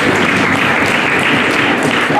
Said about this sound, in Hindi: ये डालते इस बात पर ताली बजनी चाहिए।